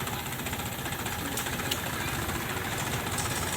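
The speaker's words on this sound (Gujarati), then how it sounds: "3 ટ્રેક્ટર નીકળ્યા છે।" Tractor engines rumble steadily at a distance as three tractors pull away from a field where chemical fertilizer is being spread, a low, even drone with no talk.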